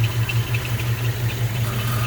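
A 1954 Oldsmobile 98 engine idling up close, steady low rhythmic throb with a faint recurring squeak from a slightly loose belt riding over it.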